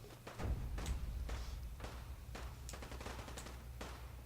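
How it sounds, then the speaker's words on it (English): Faint, distant gunfire in Fallout 4's Nuka World, a scattered series of muffled shots and thuds spaced irregularly over a low steady hum. "I'm hearing shooting, so there's something besides mindless ghouls in here."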